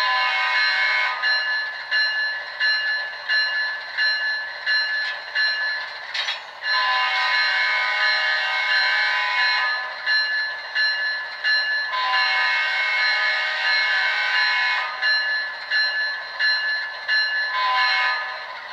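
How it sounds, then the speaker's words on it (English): A Kato P42 HO scale model locomotive with DCC sound blows its multi-tone horn in loud repeated blasts while the bell rings in a fast steady rhythm beneath. "when I hit the horn, the bell automatically starts."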